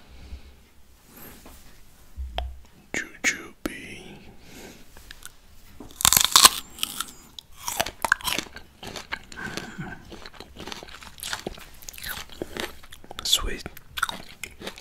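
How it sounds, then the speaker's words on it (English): Fresh jujube fruit and cashew nuts are bitten and chewed close to the mic with crisp, irregular crunches and wet chewing, while a soft voice speaks at times. "Today, I eat Jujube and cashew nuts."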